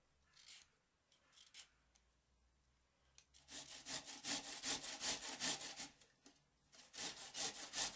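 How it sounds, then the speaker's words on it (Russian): Carrots rubbed against a coarse grater in a kitchen, a few sparse scrapes at first, then a quick run of rhythmic, close rasping strokes, each one a short gritty swipe. "Морковь натрем на крупной терке."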